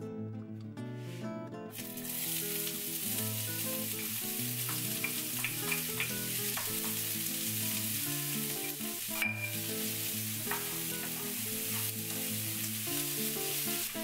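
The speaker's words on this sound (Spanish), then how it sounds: "agrega un chorrito de aceite y sofríe las cebollas" Onions sauté in a splash of olive oil in a wide pot, a soft, even sizzle with faint stirring scrapes starting after a brief quiet opening, running steadily beneath background music.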